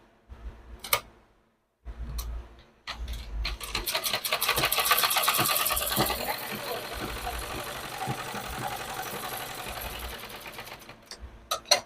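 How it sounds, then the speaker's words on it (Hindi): Sewing machine stitching the crotch seam of a palazzo, with a few short needle bursts followed by a longer run of rapid, even rattling, close and moderately loud, stopping and starting with a faint voice at times. "तो हम इसको सिल लेते हैं, इसकी मियानी को।"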